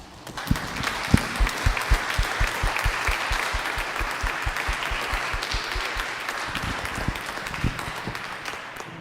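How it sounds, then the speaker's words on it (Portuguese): A church congregation claps together in worship, starting with a steady, evenly spaced rhythmic beat of sharp claps that gradually blurs into a dense wash of applause, heard in a reverberant sanctuary. "Adore ao Senhor com as suas palmas."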